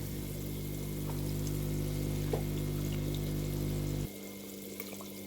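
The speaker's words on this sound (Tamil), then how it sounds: "பாருங்க, குழம்பு நல்லா கொதிச்சு வருது." Catla fish curry (Tamil-style kulambu) boils in a pot, giving a steady bubbling, watery wash over a low mechanical hum that cuts off abruptly near the end. Nearby, with no voices.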